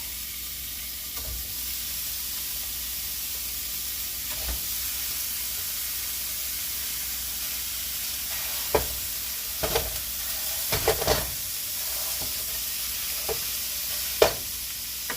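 Hamburger meat for Texas picadillo sizzles in a pan, a constant close frying hiss with scattered spatula clicks and scrapes that grow more frequent toward the end.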